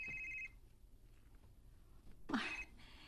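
A telephone rings with an incoming call, a short bright electronic trill at the start and another burst later, heard fairly close in a quiet indoor room with no talk.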